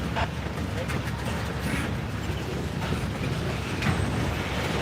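Norfolk Southern train 167, led by the Lehigh Valley heritage unit NS8104, rumbles by with continuous clanking and rattling from the railcars. Voices talk over it throughout.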